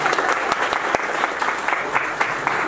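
Audience applause during a digital marketing talk, loud sustained clapping from a room full of people with a few sharper claps standing out.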